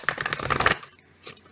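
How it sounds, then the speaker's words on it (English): Tarot cards being shuffled, a quick papery riffle that is fairly close and steady for most of a second, then stops, followed by a brief softer flick. "So we will just get started with our shuffle."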